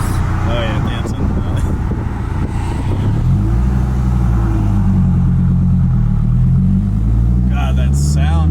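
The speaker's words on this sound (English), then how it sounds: "that sound of the V10" A Dodge Viper ACR Extreme's V10 engine revs and hums close by, the pitch climbing and shifting through gears, with road noise underneath.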